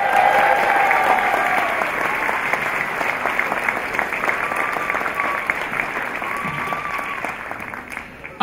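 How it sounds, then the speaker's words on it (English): An audience applauds steadily, a dense patter of many hands clapping that holds strong and slowly tapers, with a few voices calling out within the crowd. "Can we have an equally big round of applause?"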